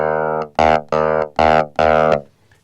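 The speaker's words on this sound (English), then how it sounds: "Now, we've got a drive control here, so that just makes it a bit dirtier." GarageBand iOS clavinet with the drive control pushed to maximum, playing five loud, gritty, distorted chord stabs in an even rhythm, each a short sustained buzzy hit, alone with no talk.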